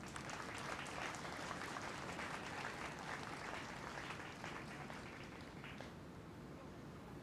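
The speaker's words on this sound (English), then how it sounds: "Please give them a round of applause." An audience applauds board members at a township gathering, steady crowd clapping heard from a distance, faint and even throughout with no voices over it.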